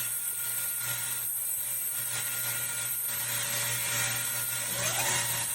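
Spindle of a 2021 Doosan DNM 5700S CNC vertical machining center spins up in an enclosure, giving a steady, fairly quiet high whine with a constant low hum underneath.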